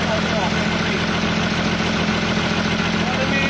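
An engine-driven water pump runs steadily, giving a loud, continuous mechanical drone with an even vibrating rumble throughout.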